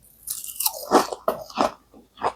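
Several crisp crunching bites into a fried perilla leaf pancake in quick succession, close and fairly loud, with chewing between them and no talking.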